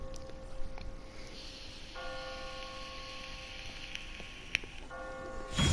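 Bells in The Walking Dead ring with sustained, ringing tones over a quiet background, with a few soft clanks and a louder noise rising at the end.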